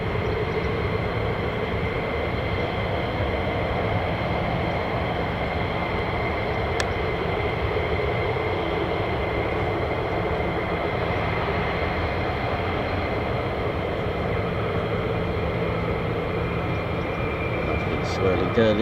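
US Air Force F-15 and F-35 fighter jets at RAF Lakenheath produce a loud, unbroken engine roar that holds steady for the whole stretch, with no pauses.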